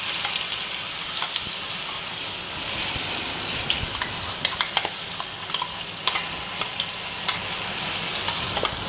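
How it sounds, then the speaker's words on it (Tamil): Chutney poured into hot mustard-seed tempering: steady sizzling and crackling from a hot pan, with small pops and spatters scattered across a continuous frying hiss. "கடுகு போட்டு தாளிச்சிட்டு அது பொரிஞ்சோடனே நம்ம இதை கொட்டிடலாம்."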